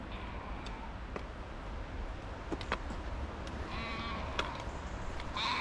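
Faint, distant bleating calls rise now and then over a low background hum, a few scattered cries spread across several seconds.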